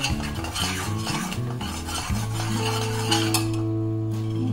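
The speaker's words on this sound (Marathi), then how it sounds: "आता याच्यामध्ये आपण विलायची पावडर टाकूया, विलायची पावडर, कुटून घेतलेले शेंगदाणे त्यामध्ये मिक्स करून घेऊया" A spoon stirs cardamom powder and crushed peanuts into a sweet mixture in a pan, making close, rhythmic scraping and clinking strokes over a continuous backdrop of musical tones.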